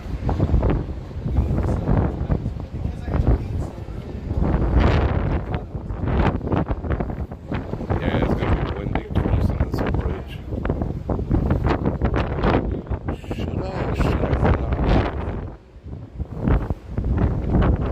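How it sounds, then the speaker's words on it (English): Strong gusty wind buffets the microphone outdoors on a Las Vegas street, roaring in loud, uneven bursts that rise and fall throughout with barely a pause. "We're kind of sheltered from the wind on this side."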